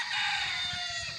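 Gamecock rooster from a game farm crowing or squawking in a short, shrill, sustained call, fairly faint and alone.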